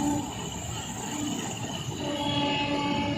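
A train rolling over a bridge at the riverside bathing ghats during the Prayagraj Kumbh festival, a steady loud rumble with sustained tonal rail hum throughout, heard close and continuous with no voices.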